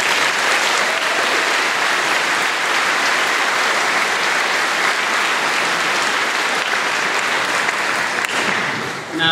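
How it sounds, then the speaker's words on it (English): A large graduation audience applauds for the graduates' families at a 2015 high school commencement, a dense, steady roar of clapping that fills the whole stretch and fades slightly at the very end. "So please take a moment and give your families a round of applause."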